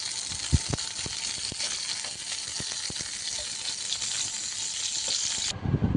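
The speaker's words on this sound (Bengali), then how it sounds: "একই ফ্রাই প্যানে তেলের মধ্যে পটলগুলোকে দিয়ে নিচ্ছি ভাজার জন্য" Pieces of pointed gourd (potol) fry in hot oil in a frying pan, giving a close, even, crackling sizzle with a few sharp pops and taps before it cuts off near the end.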